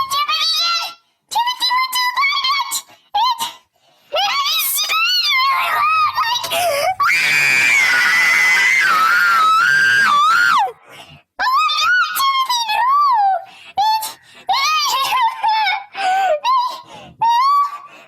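Loud, shrill sustained screams and wails from a voice imitating a ghost train, rising and falling in long bursts with brief gaps, close and intense, with one long continuous scream in the middle.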